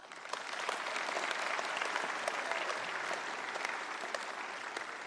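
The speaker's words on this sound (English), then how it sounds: "Give them a big clap" Steady crowd applause fills a James Cook University graduation ceremony in Brisbane, dense, continuous clapping from a large audience holding at an even level throughout.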